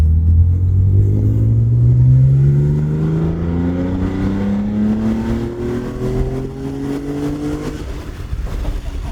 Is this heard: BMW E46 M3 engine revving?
yes